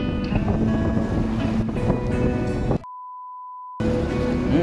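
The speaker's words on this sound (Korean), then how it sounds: "여기는 조용하니 바다 이 물 가르는 소리" Boat cutting through sea water on a breezy coast, a steady close rush and splash of water with wind, broken by about a second of a single electronic beep tone.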